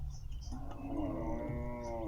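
A single Maasai cow lets out one long, drawn-out moo at moderate distance over a steady outdoor background rumble.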